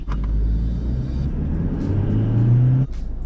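Stock Toyota Hilux Revo Z Edition pickup engine accelerating in normal drive mode, a steady loud rumble whose pitch climbs and strains for about three seconds before easing off abruptly near the end.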